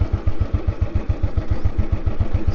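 A 2003 Royal Enfield Bullet motorcycle ridden in second gear, its single-cylinder engine thumping in a steady, fast, loud pulse close by with no talk.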